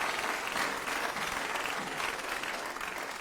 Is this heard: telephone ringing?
no